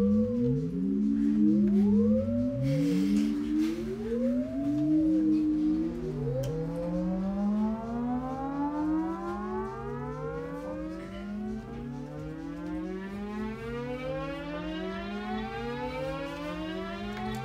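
A modular synthesizer Shepard tone with layered glides that seem to rise endlessly, after a wobbling siren-like sweep at the start, steady and loud throughout.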